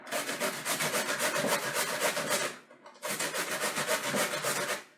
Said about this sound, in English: And now I'll also peel my onions, and I'll grate my onions too.